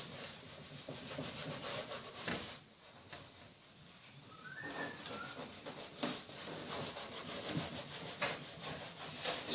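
A hobby iron slides over covering sheeting on the ribs of a slightly undercambered model aircraft wing, making soft, irregular rubbing and brushing strokes that are faint and close, with brief pauses between passes.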